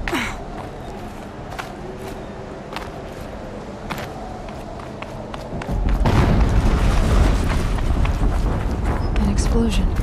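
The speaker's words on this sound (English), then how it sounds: "An explosion." An explosion erupts in Horizon Zero Dawn, a heavy, rumbling boom that cuts in midway and stays loud above a busy bed of game sounds, with a player talking over it.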